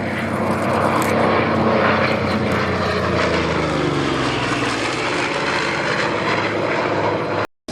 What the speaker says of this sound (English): Fastest American single-seat fighter of its day, able to exceed 400 miles an hour.